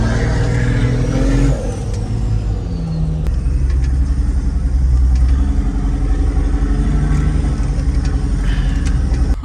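A loud engine of the world's largest off-road wrecker truck runs at a heavy, steady roar, revving and holding high throughout without letup, close by, with no voices.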